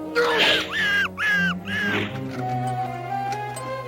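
A cartoon bird gives several harsh, crow-like caws in quick succession, loud and close, followed by a sustained tonal drone, in an animated fantasy battle scene from the Visionaries series.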